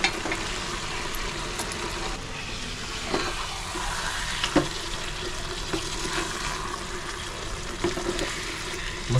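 Marinated paneer sizzles in a pan with fenugreek (methi) leaves, giving a steady close frying hiss with small crackles and pops throughout and no talk.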